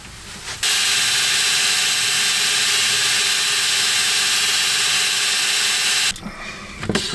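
A power drill bores a hole while fitting a dry separating toilet in a camper van, a loud, steady whine of about five seconds that starts and stops abruptly, with faint handling noises before and after.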